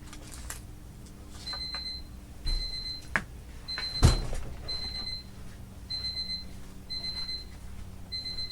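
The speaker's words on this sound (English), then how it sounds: "my medicine alarm went off" A phone's medicine reminder alarm goes off in a quiet room, repeating short bursts of bright beeps at a steady rhythm, with a soft thump and rustle partway through.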